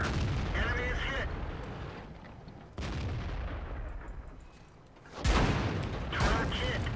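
Tank cannon shots in World of Tanks, played in a Kanonenjagdpanzer: two sharp, loud booms with decaying rumbling tails, the second heavier and closer, amid game battle noise with radio-style voice callouts.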